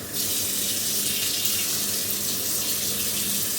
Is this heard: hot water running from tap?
yes